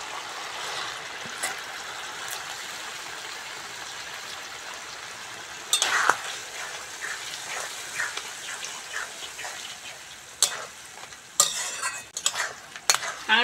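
Crabs being stir-fried in oily, spicy masala, with steady sizzling and repeated scraping stirs of a utensil against the pan, growing busier with clatter toward the end.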